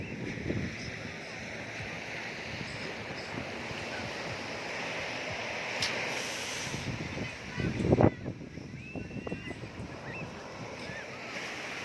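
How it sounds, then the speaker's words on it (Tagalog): A constant wash of strong surf and wind at a beach in Lian, Batangas, Philippines, with a heavier wave surge crashing near the end. "Ang lakas ng alon, no?"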